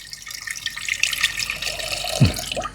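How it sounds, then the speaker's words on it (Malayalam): Water pours into a cooking pot holding chicken for soup, a steady splashing stream running throughout with a brief louder gush near the end. "ഇതിലേക്ക് കുറേ വെള്ളം ഒഴിക്കുന്നു"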